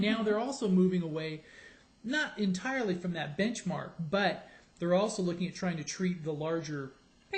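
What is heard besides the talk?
None of the usual background noises is heard.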